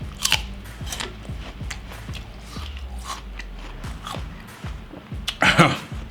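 Crisp, repeated bites and crunching chews of a raw apple, close and steady over several seconds, with a louder crunching burst near the end and no talking.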